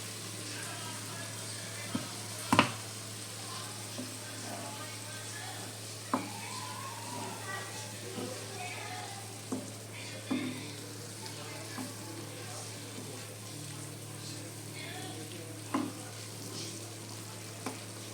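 Spiced masala with a splash of water is stir-fried in a pan for a vegetarian pointed gourd dish, sizzling steadily with occasional scrapes and taps of the spatula.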